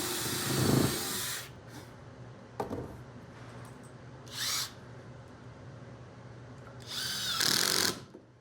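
Power drill bursts driving screws into a wooden C-shaped sofa table, three or four short whirring runs spread apart with quiet gaps between, close and fairly loud.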